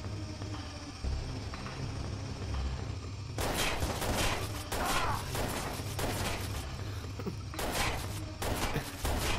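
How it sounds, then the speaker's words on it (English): Shotgun fire in a video game: heavy booming blasts in irregular bursts over a low rumbling background, loud and close, with no talking. "I love this shotgun"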